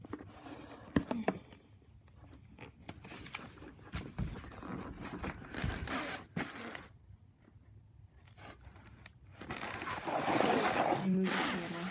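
Close, irregular scraping, tearing and thumping of a hard cardboard box being pried open, with bursts of rustling and a few short pauses.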